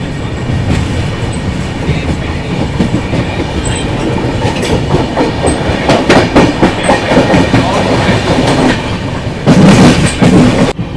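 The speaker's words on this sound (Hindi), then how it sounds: "मात्र 2 मिनट के स्टॉप के बाद अपनी ट्रेन अभी निकल रही है अराकोनम जंक्शन से।" LTT Mumbai–Chennai Express picking up speed out of Arakkonam Junction, heard from aboard as a loud, steady rumble with rhythmic clickety-clack of wheels over rail joints and brief squeals, building toward the end.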